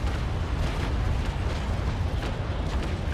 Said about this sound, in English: might as well give him broadside, parallel convergence, and fire